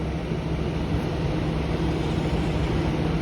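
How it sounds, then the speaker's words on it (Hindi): A steady electric radiator cooling fan keeps whirring on an MG Hector Plus SUV after the engine has been switched off, a constant broadband hum with a low tonal drone and no speech. "गाड़ी का रेडिएटर अभी भी ऑन है"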